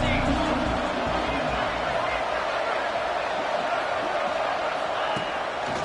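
Steady roar of a stadium crowd at a college football game during a big third down, a dense continuous wash of cheering and babble with no single voice standing out.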